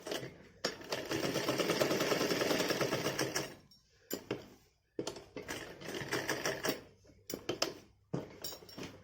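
A sewing machine stitches a six-month-old baby's Holi dress, running in one long steady burst and then in several shorter stop-start runs, close and clear.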